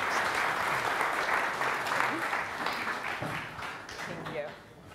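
A press event audience applauds with steady, dense clapping that fills the room and fades slightly toward the end. Faint voices sit under it.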